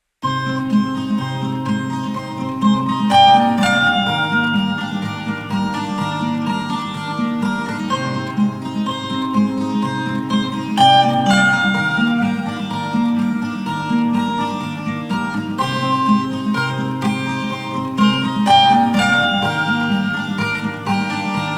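Electric guitars recorded and mixed with reverb emphasizing the slides play back as a full, continuous layered part with sustained chords and melodic lines, steady and loud throughout with no talking.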